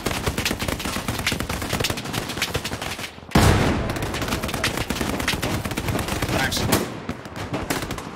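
Machine gun strafing fire in the Hell Let Loose war game: dense, continuous rapid bursts of gunfire, loud and close, with a brief pause before another sustained stretch and some voices underneath.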